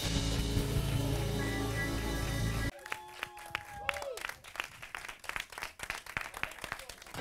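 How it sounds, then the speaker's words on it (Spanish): Applause from the audience of a Spanish comedy talk show, a dense crowd wash that cuts off abruptly into sparse, scattered claps and brief vocal sounds nearby. "Fuerte el aplauso a José Guerrero, Yuyu y Charo Pérez"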